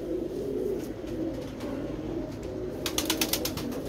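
Pigeon cooing in rainy weather, soft low coos and a brief run of rhythmic pulses near the end, set against steady broadband noise like rain or wind, faint and somewhat distant.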